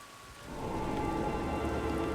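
Rain falling in the Age of the Ring strategy game, a soft hiss that swells in after a quiet start and then pours steadily, alone with no talk.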